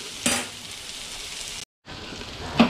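Very hot water poured over knotted soup dough for Hungarian knotted-noodle soup, a loud close hiss and sizzle with sharp bursts at the start and end and a brief silent gap between.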